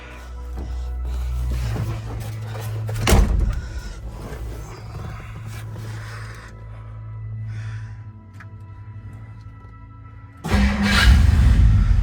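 A 1958 Plymouth engine cold-starts with a sharp crank burst, then settles into a low steady idle rumble, before a louder revving surge near the end, close by.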